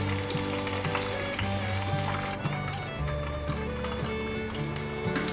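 Pieces of vegan meat bubble and sizzle steadily in hot oil as they deep-fry to golden, a continuous close frying hiss with a low hum underneath and no talking.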